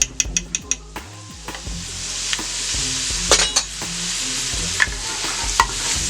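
Chili paste sizzling in a hot pan while cooking a chicken and shrimp ramen soup, opening with a few sharp taps, then a loud steady sizzle with stirring clatter.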